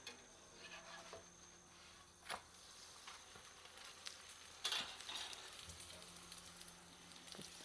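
A stuffed paratha fries in oil on a pan, giving a soft continuous sizzle with occasional crackles and light scraping taps, fairly quiet and with no talking.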